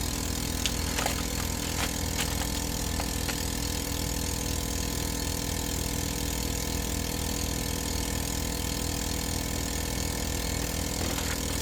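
A vacuum sealer pump draws air from a bag of homemade pasta meals, giving a continuous low mechanical hum at moderate volume with a few faint clicks and no voices.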